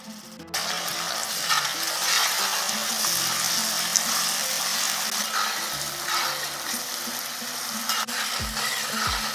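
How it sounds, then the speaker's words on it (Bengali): Ginger-garlic paste sizzling and frying with softened onions in a pan for mutton curry, a steady loud crackle with occasional scraping stirs of a spatula throughout. "আদাটাকে 30 সেকেন্ডের মতন ভেজে নিয়েছি"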